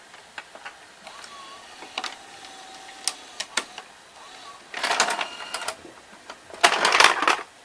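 A Toshiba M-447 VHS VCR ejecting its tape: a string of sharp mechanical clicks and ticks, then two louder bursts of whirring, clattering mechanism noise as the cassette comes out, heard close up.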